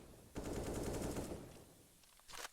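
Rapid rifle fire in Counter-Strike on the Inferno map, bullets sprayed through a smoke grenade during a professional match: a short dense burst of shots, moderately close, followed by a brief second volley.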